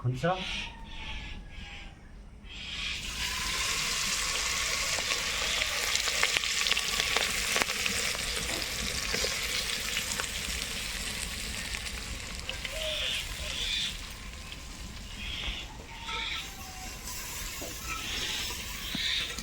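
Steady loud sizzling of chicken frying in a hot pan fills the clip, with brief stirring clatter and a moment of quieter hiss at the start.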